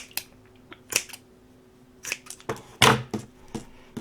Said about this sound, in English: These scissors aren't wanting to work.